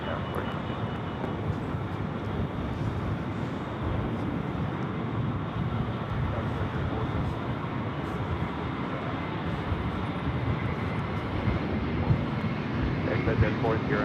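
An airplane on a runway at LAX gives off a loud, steady roar of jet engine noise that fills the whole stretch, with no clear breaks and a slight swell near the end.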